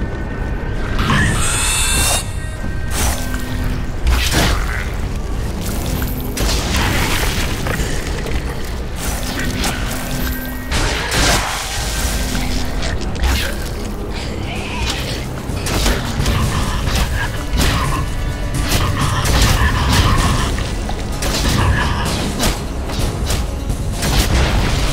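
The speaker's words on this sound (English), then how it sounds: "Explosions and mass destruction." Explosions and heavy destruction in the video game Hunted: The Demon's Forge, with repeated booms, crashes and clanking mechanical impacts running loud and dense throughout, mixed with game music and effects.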